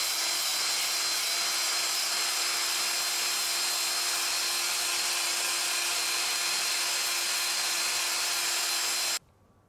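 Sandpaper working the inside of a spinning burl wood vase on a lathe, a steady, loud broadband hiss with a constant motor hum running unbroken, then cutting off abruptly near the end.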